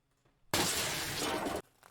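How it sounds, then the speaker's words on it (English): Glass shatters in one loud, dense burst lasting about a second, then cuts off to near silence; a smash effect used for a glass bridge game. "Smash glass."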